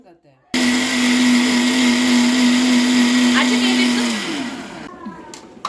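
A kitchen mixer grinder blends tomato and grated coconut into a paste, starting abruptly with a loud, steady whir that winds down after about four seconds, followed by brief clatter.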